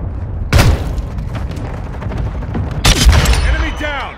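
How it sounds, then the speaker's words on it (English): A cruise missile strikes in the video game Modern Warfare 2, two loud explosive bursts a couple of seconds apart amid rattling gunfire and rumbling debris, with brief radio-style voices in the mix. "Hostile cruise missile incoming."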